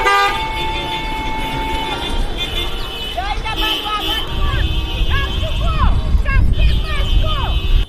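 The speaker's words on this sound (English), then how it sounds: "drowned out by the sounds of car horns blaring throughout the town" Car horns blare from a protest motorcade moving through the streets of Vieux Fort, with many loud, overlapping honks and toots sounding repeatedly over steady road noise and the murmur of the crowd.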